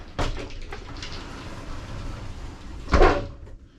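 Glass shower enclosure roller door in a 2019 Coachmen Mirada 35BH motorhome, sliding with a short rolling rumble and a firmer knock or latch sound near the end, close and alone.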